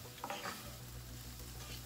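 Fresh green beans and halved cherry tomatoes sauté in a pan, giving a soft, close sizzle with a brief stirring scrape near the start and no talking.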